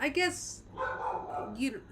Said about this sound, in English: sorry guys about the dog.